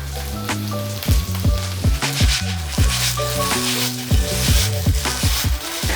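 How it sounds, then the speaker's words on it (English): Cubes of tofu coated in corn flour fry loudly in a pan, with a continuous bright sizzle broken by repeated scraping and stirring knocks of a utensil. "you just fry it with corn flour and then set it aside and then carry on cooking"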